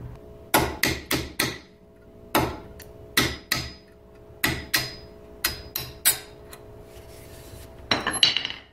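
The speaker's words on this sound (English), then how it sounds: "All you have to do is just hammer these pins back." Sharp metallic hammer strikes on brake caliper pins, about a dozen, in uneven bursts of two or three with short pauses, close and loud over a faint steady hum.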